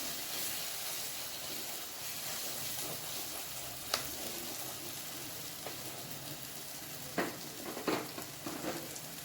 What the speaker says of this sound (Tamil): இதை நல்லா வதக்கி விட்டு கொஞ்சம் நல்லா எல்லாம் பச்சை வாசனை போகிற வரைக்கும் நல்லா கொஞ்சம் வதக்கிக்கலாம்.